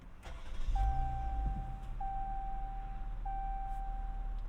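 A 2019 Jeep Cherokee Trailhawk engine starts by push button: a brief crank catches into a steady idle while a chime beeps repeatedly in the cabin, heard close up.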